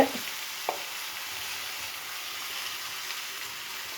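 Curry leaves crackle and fry in hot oil for a steady, close sizzle with no talking, and one short clink near the start.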